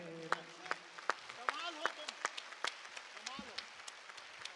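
Audience at a Hindi poetry recital breaks into rhythmic clapping, steady sharp claps repeating about twice a second, with voices talking and calling out underneath.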